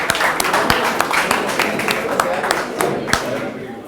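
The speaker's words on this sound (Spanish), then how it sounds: "Un aplauso para ustedes, por favor." Scattered hand clapping from a small group, sharp irregular claps running steadily throughout, with a murmur of background noise.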